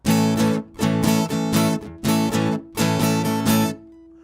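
Rhythmic strumming of a guitar chord in short bursts, with some strokes sharply muted into percussive chunks between ringing downstrokes and upstrokes.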